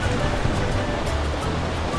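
Water rushes steadily through stone channels along the walking streets of Ollantaytambo, Peru, a close, even, full-bodied gushing without pause.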